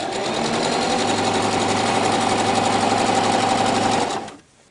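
A domestic sewing machine runs a steady zigzag stitch along the edge of fabric for a girl's circle skirt, a close, continuous mechanical whirr and rapid needle chatter that stops abruptly near the end.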